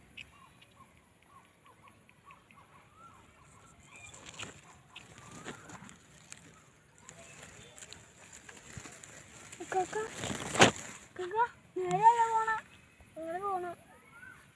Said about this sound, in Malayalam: കിളികളുടെ കളകരാഗങ്ങളും